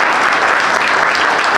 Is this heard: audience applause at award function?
yes